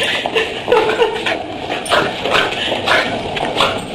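A puppy whimpers and yips in high, restless cries with occasional small barks, close and continuous, sometimes overlapping with faint voices.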